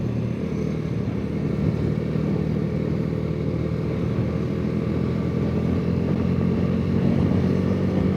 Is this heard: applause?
no